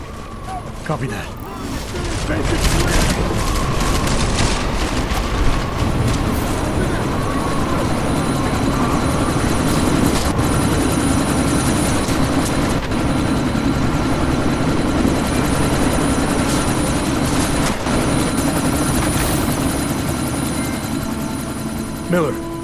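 A helicopter in Deus Ex: Mankind Divided drones with a loud, continuous rotor roar and mechanical whine that holds steady throughout, with brief impacts and voices mixed in.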